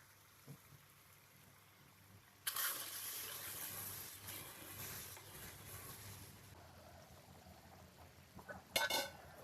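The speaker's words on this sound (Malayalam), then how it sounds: "അമ്മ അതിലേക്ക് ഇതാ എല്ലാം പൊടികളൊക്കെ ഇട്ട പുളിവെള്ളം ഒഴിച്ചു കൊടുക്കും" Tamarind water mixed with spice powders is poured into a cooking pot for a Palakkad-style egg tamarind curry, a quiet gushing splash lasting a few seconds, with faint clinks of the pot afterward.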